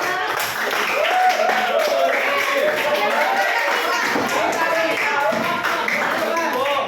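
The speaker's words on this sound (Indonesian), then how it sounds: "tepuk tangan untuk lawan" A classroom of students claps for the opposing team during a microteaching lesson, brisk group clapping mixed with lively chatter and excited voices running throughout.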